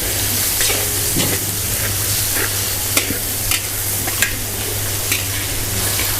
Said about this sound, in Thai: ผัดหนังหมูก่อน